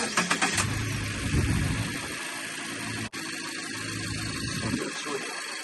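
A car engine cranks and starts, then runs at a steady idle nearby, with brief talk near the start.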